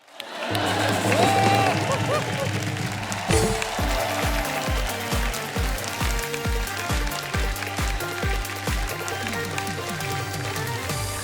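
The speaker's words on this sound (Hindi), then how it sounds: "इन दोनों के लिए जोर जोर से तालियां बजाएं" A studio audience at a comedy show applauds and cheers loudly in a dense, sustained wash of clapping, with a thumping rhythmic music beat kicking in underneath.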